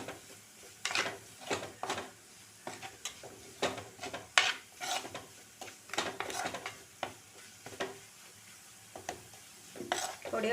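Spice powders and ground pepper roasting in a pan for a fish curry, stirred with a spoon in repeated scraping strokes over a soft sizzle, close and irregular with no talk.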